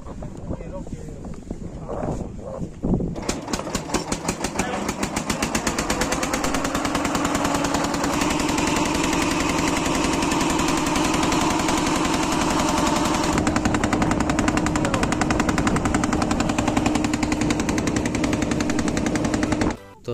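A motorboat engine on a river crossing to Mousuni Island chugs loudly and steadily from close by with a rapid, rattling beat, holding without a break for most of the stretch until it cuts off abruptly at the end.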